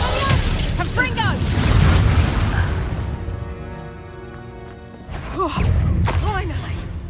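Confringo blasting spells explode in rapid succession during a Hogwarts Legacy battle, with loud, crackling bursts and rumbling booms surging in waves while character voices shout over the combat.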